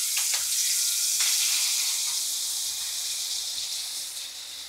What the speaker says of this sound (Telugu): ఇక్కడైతే పిల్లలకు ఆకలి అవుతుందని ఫిష్ ఫ్రై అయితే చేస్తున్నా.